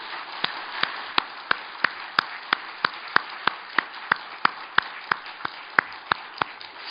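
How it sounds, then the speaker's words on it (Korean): A church congregation claps in unison during a worship service, a steady, evenly paced rhythm of about twenty sharp claps in under seven seconds over a faint crowd wash, with no talking. "우리 하나님께 영광의 박수를 올려드립니다."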